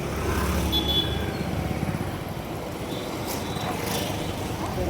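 Busy road traffic near a temple garden in Chakan, with many vehicles rumbling past close by in a continuous engine drone and a couple of horn-like tones, faint talk underneath.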